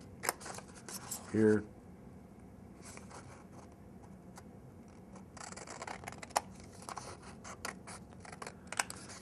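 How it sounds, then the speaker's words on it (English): Scissors snip through folded paper along dotted lines in a brief, loud cutting burst, followed by faint rubbing and handling noises while a person talks quietly nearby. "take your pair of scissors and cut out the whole middle at the same time by cutting along the dotted lines"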